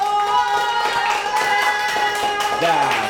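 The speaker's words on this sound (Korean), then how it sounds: "하랑이 나오세요. 박수 쳐줘야죠." A group of children in a classroom claps for the winner of a listening game, a quick patter of hand claps mixed with voices talking over them.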